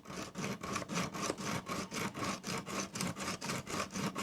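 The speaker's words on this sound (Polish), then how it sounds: "tylko moje zadanie jest takie, żeby to trzymać, nie gibać tym i przesuwam po osełce" A knife blade rubbed back and forth on a diamond sharpening stone in a steady quick rhythm, about four strokes a second, close and fairly quiet, with a gritty scraping texture.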